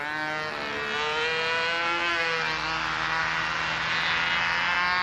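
A Double Star model airplane engine runs at a local control-line contest, a loud, sustained buzzing whine whose pitch shifts and climbs as the plane circles, with no talk over it.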